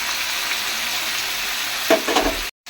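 Fish head sizzling and frying in a pan with ginger paste and spices, a steady close hiss with a brief stir or clatter near the end before it cuts off.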